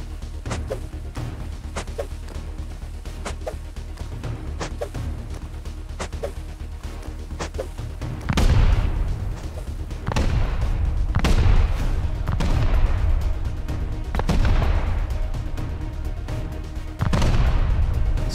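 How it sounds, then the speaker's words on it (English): Explosive charges blowing through a base wall in Rust, a series of heavy booms spaced a second or two apart over a steady low rumble, loud and close. "I'm going to blow the wall."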